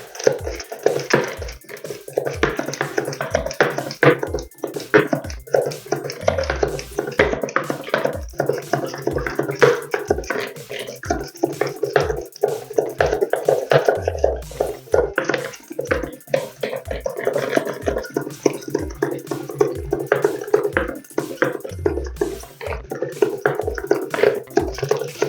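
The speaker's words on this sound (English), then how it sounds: "And then let's whisk it." Five large eggs are whisked for a Malta loaf batter, producing a fast, regular stream of light tapping strokes against the bowl that continues steadily for the whole stretch at close range.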